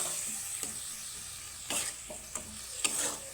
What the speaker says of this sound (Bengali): মশলাটাকে আমি একটু কষানোর জন্য আমি দিয়ে দিলাম সামান্য পরিমাণে এখানে জল।